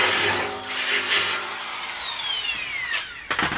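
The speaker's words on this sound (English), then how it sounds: "Drilling half-inch holes is no joke." A power drill bores half-inch holes while mounting a saw to a DIY ballast box, a loud whining motor that slowly drops in pitch under load, ending with sharp rattling bursts as the bit breaks through.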